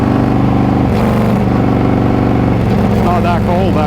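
A motorcycle engine hums steadily at medium revs while riding along a lonely, snow-lined winter road, the motor droning continuously beneath a voice as he talks throughout.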